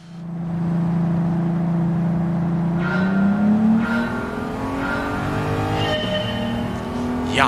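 Engine in a racing video game revving up as the car accelerates out of a corner, a steady loud drone rising in pitch through gear changes, with faint tire squeal.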